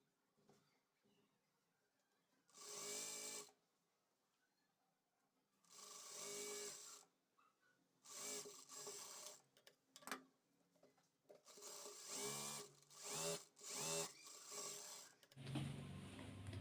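A sewing machine stitches the side seam of a top in several short, separate bursts with quiet pauses between them. The bursts grow quicker and closer together toward the end, heard nearby with no speech.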